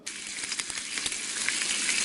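Steady, crackling sizzle of food frying in a hot pan, close and continuous with small pops scattered throughout.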